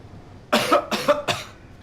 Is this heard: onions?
no